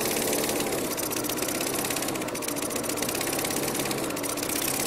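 A Geet engine mounted on a lawnmower runs steadily, a fast, even mechanical chatter with a buzzing knock that stays loud and constant throughout, with no voices.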